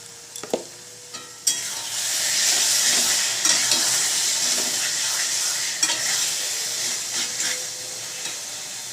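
Boiled chickpeas being stirred into taro leaf greens in a pan, a few spoon knocks followed by a steady broad hiss of frying and stirring that continues to the end, close and fairly loud.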